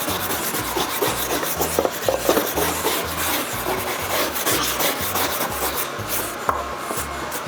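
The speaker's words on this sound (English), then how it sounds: "you're gonna take your wire brush and you're gonna proceed again with the scrubbing" A wire brush scrubs mold stain remover into a wood surface in quick, regular back-and-forth strokes, rasping and close up, with no voices.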